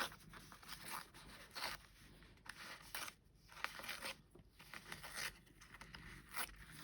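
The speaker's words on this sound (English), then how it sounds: "a bit more ripping." Paper ripped by hand to create a torn window edge, with a series of close, raspy tearing strokes in irregular bursts and short pauses, quiet and without talk.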